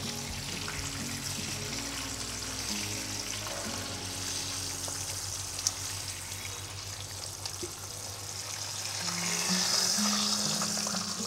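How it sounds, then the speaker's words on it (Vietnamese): Steady sizzling of pork skin frying in a hot pan, a dense crackle that swells slightly louder near the end, with no voices. "mình sẽ chiên cái bì trước cho bì nó dai lại"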